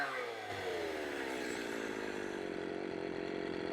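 A Poulan 330Pro chainsaw, running smoky on the wrong fuel mixture, drones steadily at a buzzing mid-pitched idle-to-rev whine, close and continuous with slight pitch wavering throughout.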